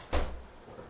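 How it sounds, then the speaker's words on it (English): A single short door close, a soft dull thud with a brief rattle, fairly quiet and near, followed by faint room noise. "Close the door"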